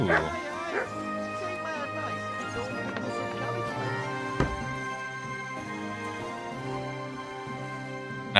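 A dog barks and whines in Kingdom Come Deliverance 2. Short yips and whimpers sit over a steady bed of game music, with one sharper bark standing out near the middle.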